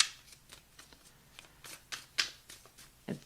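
Fountain Tarot cards are shuffled by hand, giving soft close riffling and slapping bursts at irregular intervals, quiet and intimate with no voices.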